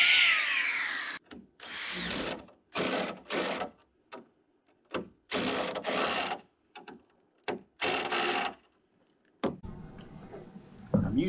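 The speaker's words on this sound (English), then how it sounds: "I'm going to go ahead and drill and anchor this with my lag bolts." Several bursts of a power drill whirring as it drills and anchors lag bolts for rafters on a log cabin, each a second or so, separated by short pauses, close and loud, with quieter clicks and handling noise between.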